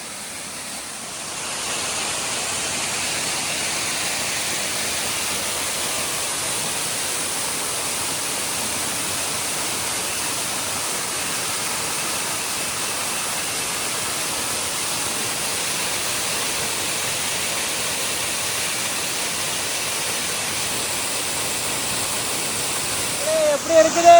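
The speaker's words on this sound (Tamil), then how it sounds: "இதாங்க அந்த வாட்டர் ஃபால்ஸ் பாருங்கள், பாறைக்கு நடுவில் இருக்குது." Elaneeru Falls, a waterfall pouring among rocks in Chikmagalur, roars as a constant broadband rush, close and steady throughout, with a slight rise in noise at the very end.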